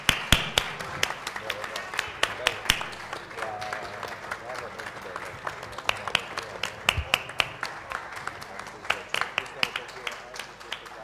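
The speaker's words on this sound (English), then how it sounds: "Can we give a big round of applause to our panelists," Audience applause for panelists at an entertainment and arts sustainability dialogue: a dense, sustained burst of many hands clapping, steady and lively throughout, with a sharp individual clap near the front.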